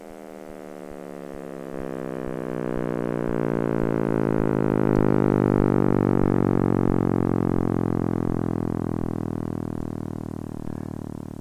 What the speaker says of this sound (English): So what you just heard is what's called a data sonification.